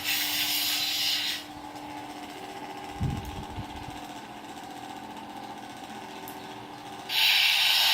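An UncleBen ProffiePixel lightsaber from AC Lightsabers runs its drag effect against a plaster block: loud, bright crackling hiss at the start and end, with a low electric hum and one short clash in between.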